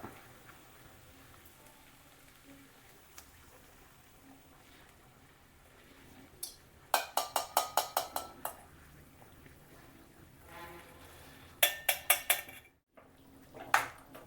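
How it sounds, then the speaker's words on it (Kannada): A spoon scrapes and clinks against a metal pot while jaggery rice (gudanna) is mixed, with quiet kitchen background at first, then bursts of rapid close scraping strokes in two short runs. "ಚೆನ್ನಾಗಿ ಮಿಕ್ಸ್ ಮಾಡಿರಿ"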